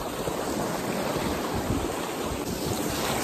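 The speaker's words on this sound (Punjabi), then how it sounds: "ਲਓ ਜੀ ਬਾਈ ਪੈਪ ਤਾਂ ਆਪਣਾ ਚੱਲ ਗਿਆ ਉਰੇ ਅਤੇ ਪਾਣੀ ਆ ਗਿਆ" Irrigation water pump on a Punjab paddy field runs steadily while water gushes out, a continuous loud broadband rush with no talk over it.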